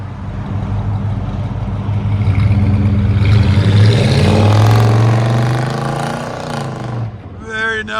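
A 1984 Chevy Monte Carlo SS with a 305 V8 and Flo Pro exhaust revs up, its deep exhaust rumble climbing and holding high before falling back to idle, loud and close, with a voice briefly heard at the end.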